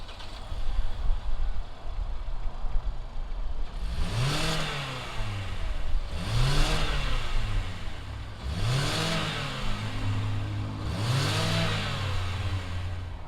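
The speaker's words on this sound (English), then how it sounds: "let's fire up this Kia Optima S and see what it sounds like" A 2020 Kia Optima S mid-size sedan runs nearby, with four separate rising revs spaced a couple of seconds apart over a quiet, steady idle.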